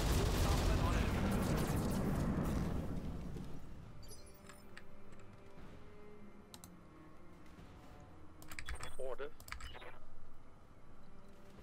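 Weapons fire from mechs in the BattleTech mod Roguetech, with a loud rumbling barrage at the start fading into scattered clicks, bangs and electronic bursts, with talk over parts of it.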